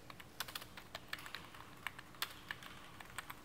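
Light, quick keystrokes on a computer keyboard as a short file name is typed, a fast irregular patter of soft clicks heard close and alone.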